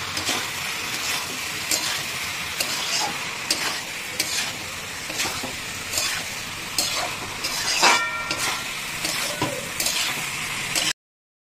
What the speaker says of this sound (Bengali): এটাকে আমরা একসাথে কিন্তু কষবো এই মশলাটার সাথে